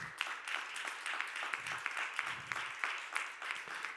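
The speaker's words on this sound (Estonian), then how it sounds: "Aplaus nominentidele." A crowd claps steadily for the nominees at the 2021 integration awards ceremony in Estonia, a dense, continuous patter of many hands that stays fairly soft and distant for the full few seconds.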